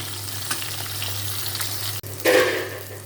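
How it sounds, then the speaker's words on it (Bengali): Fish frying in oil in a pan gives a loud, close, steady sizzle over a low hum, with a brief dropout and then a burst of louder crackling near the end. "মাছটা ভাজতে থাকি তারপরে বেগুনটা ভাজবা নেই"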